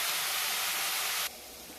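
Onion with salt hisses in a kadai, a short steady sizzle that drops off abruptly to a quieter hiss near the end.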